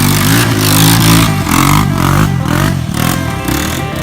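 A rebuilt LB7 Duramax diesel pickup engine revs loudly up close, its roar surging and easing in repeated pulses with some clattering throughout.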